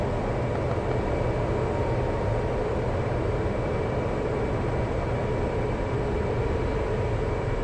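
A jet aircraft in the DCS World flight simulator rolls down the runway for takeoff, its engines producing a steady, loud broadband roar that holds unchanged throughout.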